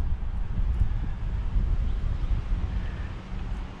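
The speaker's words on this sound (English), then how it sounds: "I am directly in the wind right now. It's cold, a little gusty." Gusty, cold wind buffets an uncovered GoPro microphone outdoors near swaying trees, producing a continuous loud low rumble that swells and dips in steady gusts with no pauses.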